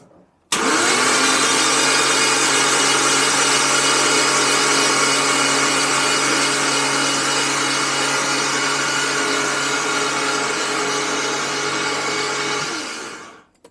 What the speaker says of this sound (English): Should we crank it a little bit more?